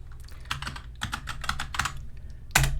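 A computer keyboard clicks out a short command in quick irregular bursts of keystrokes, ending with one firmer key press, close and clear with no talking.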